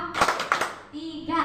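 Children in a classroom clap in a counting game, a few sharp claps in quick succession near the start, followed by a voice speaking briefly.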